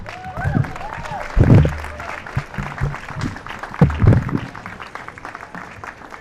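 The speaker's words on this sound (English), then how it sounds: "Let's give them a round of applause" Audience applause at an elementary school tribute event after the Pledge of Allegiance, a burst of clapping in a hall with loud peaks, mixed with crowd noise and some talking.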